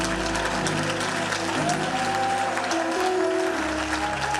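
A church congregation claps and acclaims the Lord, a steady wash of applause that runs the whole time with tonal music sounding underneath.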